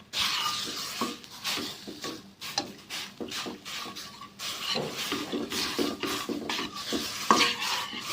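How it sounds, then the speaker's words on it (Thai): Red curry paste stir-fried in a pan, with a spatula scraping and stirring in quick irregular strokes against the metal over a faint sizzle, close and moderately quiet, no voices. "ผัดให้หอมนะคะ"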